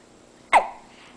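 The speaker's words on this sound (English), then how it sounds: "His hiccups." A baby boy hiccups once during tummy time, a single short, sharp hiccup that is close and clear against a quiet room, fading quickly with a little breathy tail.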